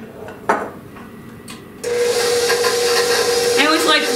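An electric mixer blends flour into cookie dough, starting after a few small clatters and then running as a loud continuous whirring hiss that holds steady to the end.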